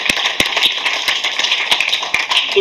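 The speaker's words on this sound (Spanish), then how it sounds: "Denle un aplauso al Señor." A church congregation claps for the Lord during a Spanish-language sermon, sharp near hand claps standing out over a steady wash of lighter clapping from many people.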